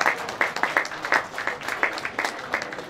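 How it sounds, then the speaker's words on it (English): A round of applause from guests at a San Jose campaign fundraiser party, steady dense clapping from a crowd at close-to-mid distance, with faint voices mixed in. "if we can please give her a round of applause"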